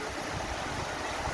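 A river near a Victorian model village rushes steadily, a continuous close hiss of flowing water with a low churning rumble underneath.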